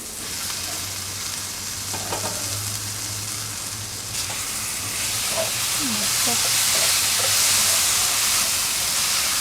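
Steamed potatoes sizzle and fry in a pan once the lid comes off, a steady hissing crackle that grows louder and brighter, with a few light clinks of utensils.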